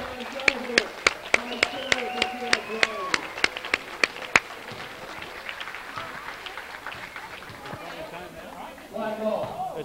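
Scattered claps and applause rise in a gym as a player leaves an old-timers basketball game between Champlain and Rouses Point, with sharp court thuds early and voices talking over the crowd noise.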